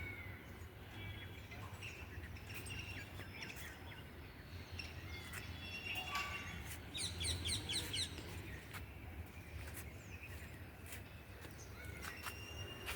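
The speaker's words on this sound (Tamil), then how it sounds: "பறவைகள்லாம் வந்துட்டாங்கப்பா." Small birds chirp and tweet in a rooftop kitchen garden among eggplant and chilli plants under a clear sky. Scattered short calls repeat at a moderate distance over a steady low outdoor hum.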